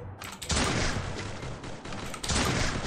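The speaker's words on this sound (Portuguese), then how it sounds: "Tá atirando em mim." Gunfire from the Free Fire mobile battle royale game, a dense burst of rapid shots that starts after a brief lull and continues loud and close across the whole stretch, with a second heavy volley near the end.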